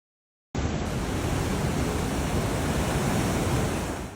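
Huge storm-driven waves up to about 40 feet crash along the California Pacific coast, a loud, steady roar of surf and spray that starts abruptly and holds without break, with no voices.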